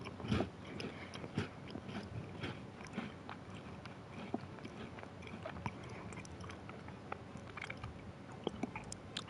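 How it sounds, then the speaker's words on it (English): Someone chews a chocolate digestive biscuit close to the microphone, with soft crunches and wet mastication in an irregular rhythm for several seconds, fairly quiet and with no talk. "I've also got a chocolate digestive biscuit."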